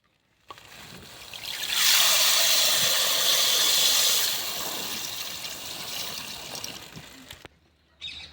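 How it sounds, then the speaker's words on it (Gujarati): Cold water rushes and splashes steadily over urad dal in a container for several seconds, then suddenly stops. "ઠંડા પાણીમાં દાળને આપણે 2 વખત ધોઈ નાખીશું"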